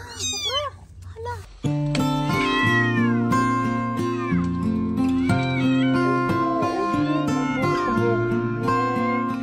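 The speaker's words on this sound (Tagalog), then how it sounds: "May naririnig kaming kuting dito." A kitten meows a few times at the start, high and wavering, and then sustained music plays steadily over it for the rest of the clip.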